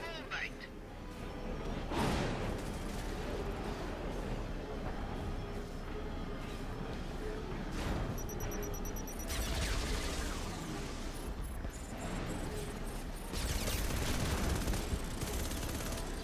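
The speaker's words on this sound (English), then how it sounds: "fire your machine gun while after those rockets fire" Machine gun and rocket fire from StarHawk, a sci-fi shooter video game, form a dense, continuous barrage with repeated louder bursts of blasts, heard under steady talk.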